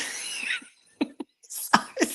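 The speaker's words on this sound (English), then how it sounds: "I was trying to clear my throat as best as I can" Several short, sharp coughs and throat-clearing bursts, spaced irregularly with brief silences between them, fairly close and moderately loud.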